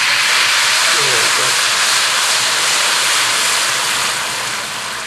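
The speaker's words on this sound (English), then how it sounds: "I'm slowly going to add about 3 ounces, maybe 4 ounces of white wine" White wine poured into a hot pan of golden garlic and dissolved anchovies while cooking Japanese-style wafu spaghetti, giving a loud, steady hiss of steam and sizzle that eases slightly toward the end.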